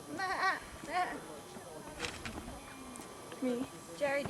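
Several quavering sheep bleats come in short bursts near water in Ireland, some close and some farther off, with people chatting in between.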